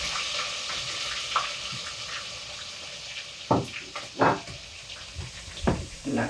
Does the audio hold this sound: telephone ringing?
no